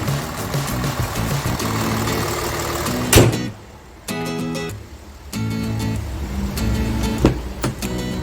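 A Kia Mohave SUV engine idles nearby with a steady low rumble, twice broken by sharp thumps like a door closing, and dropping away briefly in between.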